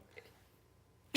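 One sudden, loud sneeze bursts out close by at the very end, after a stretch of near silence.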